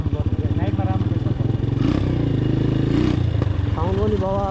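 Modified motorcycle with a handmade silencer runs close by, its engine throbbing loudly with a steady, rough rhythm and a brief rev, while people talk over it.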